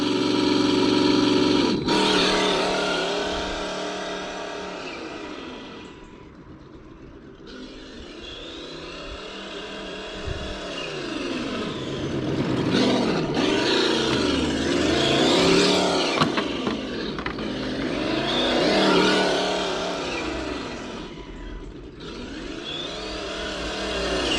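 Engine sound from the sound module of an MFP Interceptor RC car revs up and down repeatedly, rising and falling in pitch, loud and close with no talking.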